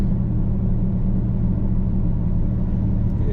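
A Nissan 350Z at Cadwell Park holds a steady, loud engine drone with a low rumble throughout, heard from inside the car without any voices.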